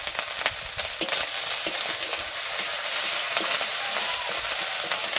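Cumin paste and dried red chilli paste fry in hot oil in a pan for a Bengali pumpkin, potato, chickpea and prawn curry, giving a steady close sizzle with scattered sharp crackles and spatters throughout, without talk.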